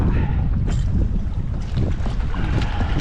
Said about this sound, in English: I got gale force wind here.